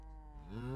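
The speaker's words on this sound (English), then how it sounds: "These cows are getting on my nerves." A single short moo from a cow in the Minecraft FTB Monster game, a rising harmonic low call, fairly close and clear with no talk over it.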